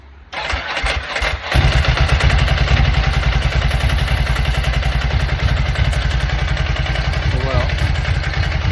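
A Ducati 999 motorcycle under restoration cranks and fires, then settles into a steady, loud, close lumpy idle that runs on without pause; a brief voice is heard near the start.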